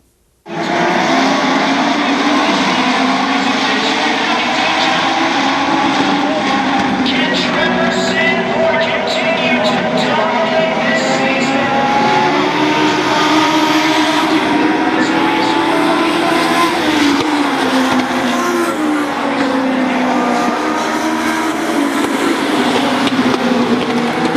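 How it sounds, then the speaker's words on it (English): Legend race cars compete at the Summer Shootout, a dense continuous roar of several engines revving and passing for over twenty seconds, loud and sustained with shifting pitch. "enjoy these highlights from some of the legend races that took place in the RideMore.com Legend Summer Shootout"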